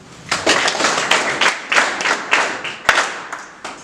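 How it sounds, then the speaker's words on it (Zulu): Audience applause at a Msinga cycling event, a crowd clapping steadily in irregular bursts for several seconds at moderate loudness, with no talk over it. "Socela nje sishayile ihlombe ukuthi ubaba uMntungwa ukwazi ukuba ingxenye yalomcimbi namhlanje."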